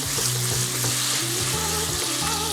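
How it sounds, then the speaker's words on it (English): Whole garlic bulbs, skin on, brown with bacon in a pan, giving a loud, dense, continuous frying sizzle with some light stirring and no talking. "we're gonna brown this until it's nice and crispy"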